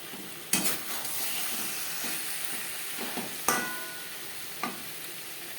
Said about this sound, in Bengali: মিডিয়াম ফ্লেমে 4-5 মিনিট কষিয়ে নেব